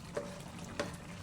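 Kway teow noodles frying in a pan as they are stirred, with a steady low sizzle and two brief scraping strokes of the utensil.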